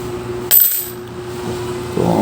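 A Philippine five-peso coin being sorted by year is handled, with one sharp metallic clink as it drops, then soft rustling and a faint scrape, close up against low room hum and no talking.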